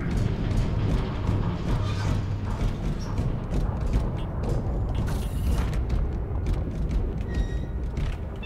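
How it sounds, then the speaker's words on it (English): A heavy mechanical door grinding and creaking open in Space Hulk: Deathwing, a steady loud rumble of gears and metal running the whole time over dense game noise. "Get this door open."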